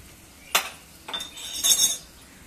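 A peanut-filled flatbread (poli) is flipped in a pan, with three short clinks and scrapes of a utensil against the pan, spaced about half a second apart in quiet surroundings.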